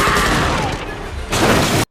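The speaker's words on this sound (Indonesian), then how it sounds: "Mobil langsung meledak, namun Jack berhasil selamat." A car explodes in an action film's bank-robbery chase after crashing into another vehicle, a loud broadband blast with crashing debris that dips briefly and swells again before cutting off abruptly.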